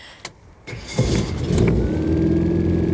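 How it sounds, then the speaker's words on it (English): A rescue hovercraft's engine turning over and catching, a short cranking burst followed by a steady loud idle rumble that fills the rest of the moment, with no talk. "so if you want to turn the engine over, okay, get started"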